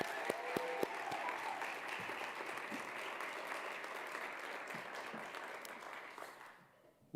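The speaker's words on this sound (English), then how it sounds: "Can we give another big round of applause for our theater students?" Warm audience applause for university theater students rolls on steadily at moderate volume, fading away near the end before a voice cuts in.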